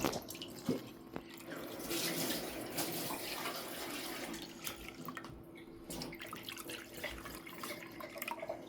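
Coconut water from two coconuts is poured into a bowl, making a continuous soft trickle and splashing with occasional drips, close and fairly quiet.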